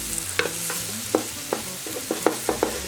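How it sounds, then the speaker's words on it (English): Vegetables sauté in a Cosori multi-cooker pot, giving a steady close sizzle broken by sharp, regular scrapes and taps of a utensil stirring them, with no voices. "So I'm just sauteing these right now."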